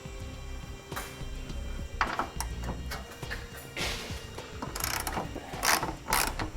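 A ratchet wrench with an 18mm socket loosening bolts under a 2014 Nissan Rogue during a trailer hitch install, with rapid close clicking bursts and metallic knocks, no talk.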